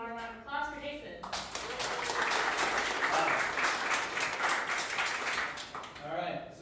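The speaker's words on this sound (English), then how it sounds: "So let's all have a warm round of applause for Jason." A meetup audience gives a warm round of applause for a speaker, rising after a few spoken words and holding steady before fading as a voice returns.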